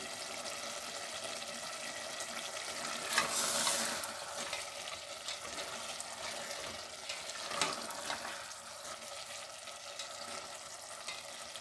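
Potatoes and chickpeas frying with green chili in a pan for aloo chana masala, a continuous hissing sizzle with stirring scrapes and a couple of louder bursts, no talking.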